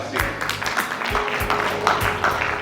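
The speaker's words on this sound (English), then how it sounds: "Huge round of applause, ladies and gentlemen." Audience clapping at an award ceremony during an anniversary celebration, a steady, moderately loud wash of applause throughout with no voices over it.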